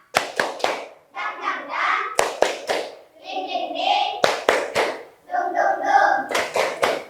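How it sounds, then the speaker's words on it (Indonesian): Schoolchildren in an Indonesian classroom perform the tepuk semangat clapping chant, bursts of quick rhythmic claps alternating with sung chanted phrases, loud and close, repeated in several rounds. "mari kita tepuk semangat terlebih dahulu"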